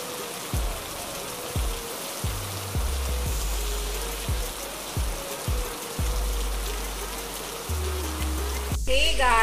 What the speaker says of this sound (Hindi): रात के आज 1 बजे से बारिश हो रही है